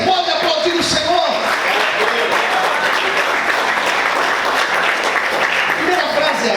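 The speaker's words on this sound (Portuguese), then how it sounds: "Você pode aplaudir o Senhor?" A church congregation claps loudly and steadily during a morning service, a continuous roar of applause with some voices mixed in throughout.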